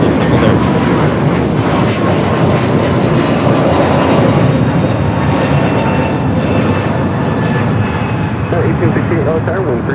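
Fixed-wing aircraft engine roar at Los Angeles LAX airport, a loud, steady broadband rumble held for the full stretch, with faint voices underneath.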